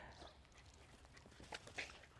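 Puppies play together with an older dog, giving faint, scattered high whimpers and yips over a low, soft background.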